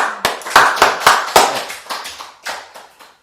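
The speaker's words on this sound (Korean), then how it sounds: "그 은혜 주시는 하나님께 박수 한번 하겠습니다" A church congregation gives a short burst of clapping after a sermon, with several sharp, loud claps in a loose rhythm that quickly thin out and fade.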